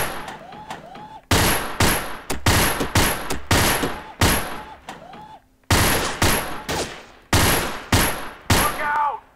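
Allied SMG 26-40 submachine gun firing in the virtual reality shooting game Gun Club VR: loud, close, rapid bursts of automatic fire repeated in quick succession, with short pauses and mechanical clicks between volleys.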